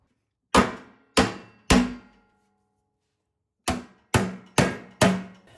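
Sledgehammer blows beating bent metal on a Troy-Bilt snowblower: three loud, sharp, ringing strikes, a pause of about two seconds, then four more in steady rhythm, close by with no talk.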